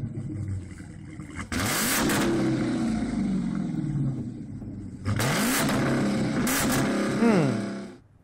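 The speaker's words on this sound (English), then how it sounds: "those are two very different sounds coming from each of those cars" A car engine revs hard in two loud bursts, each climbing sharply then easing off, over a constant close mechanical drone with no voices.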